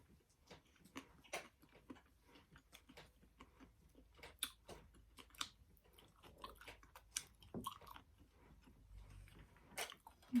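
Raw beef being chewed, giving a run of irregular close wet mouth clicks and bites at a quiet level, with no talking.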